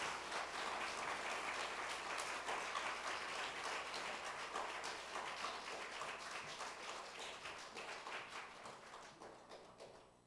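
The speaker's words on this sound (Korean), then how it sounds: "우리 뜨거운 박수로 우리 원로 목사님을 한번 모시겠습니다" A church congregation gives warm applause to welcome the senior pastor, steady dense clapping that carries on and fades gradually, heard at a slight distance.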